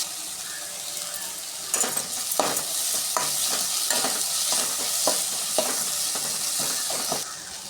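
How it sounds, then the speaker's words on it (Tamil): Chopped onion and tomato with a little salt sizzle in a pan, while a spatula scrapes through them in a run of regular, close strokes over a constant hiss. No one speaks. "பாருங்கள், வெங்காயம் தக்காளியும் நல்லா வதங்கிட்டுருக்கு"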